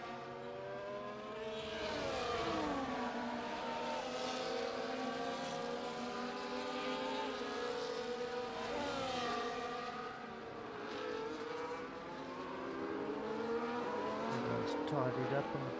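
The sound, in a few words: race car engines during a safety car period in a sim racing game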